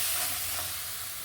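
Coriander, turmeric and chili powder sizzle in hot oil for a tilapia curry, a brief bright frying hiss with faint stirring, close and fading slightly, without talk.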